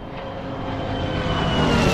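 A P-51 fighter's piston engine in the flight game DCS World drones steadily with a broad rushing roar and thin whining tones, growing slightly louder across the stretch with no voices.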